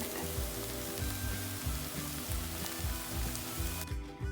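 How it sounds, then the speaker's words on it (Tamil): Bread cubes fry and get tossed in a hot pan for chilli bread: a dense, steady sizzle with repeated rhythmic scraping strokes of the spatula, cutting off abruptly at the end. "இது கொஞ்ச நேரம் ஃப்ரை ஆகட்டும். இதில் பிரெட் போட்டு நல்லா மிக்ஸ் பண்ணிக்கோங்க."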